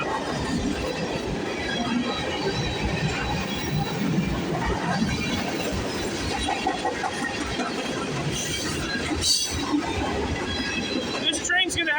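A CN freight train rumbles past on the Halton Subdivision, steady wheel noise and rail clatter filling the span, with someone talking over it and a brief squeal near the end.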